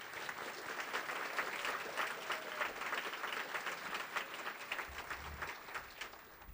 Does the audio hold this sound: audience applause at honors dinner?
yes